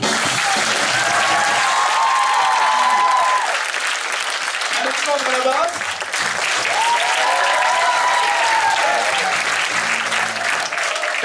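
Steady audience applause for musicians at a pop opera performance runs throughout while an announcer speaks over it, with bright musical tones and brief vocal bursts rising above the clapping.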